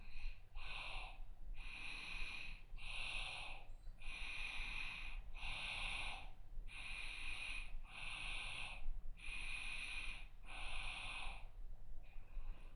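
Slow rhythmic breathing during a yoga session, about nine evenly spaced breaths, soft and close against quiet background hum.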